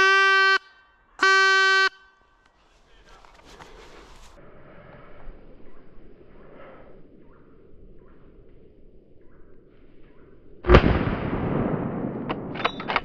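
A single sharp rifle shot cracks near the end during a driven hunt for boar and deer, loud and close, after two long horn-like tones and a stretch of quiet outdoor ambience.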